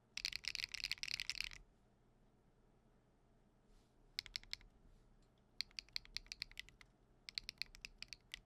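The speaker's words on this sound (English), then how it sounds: "I don't think I've ever heard a sound like this in a keyboard before." Typing on a Percent Studio PT750 keyboard: rapid bursts of crisp key clicks, one dense flurry and then scattered quicker runs after a quiet pause, close and fairly faint.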